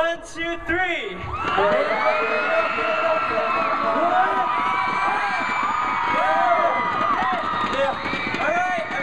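After a short count-in, a concert audience at a Korean music festival bursts into loud, sustained screaming and cheering full of shrill whoops that stays intense to the end.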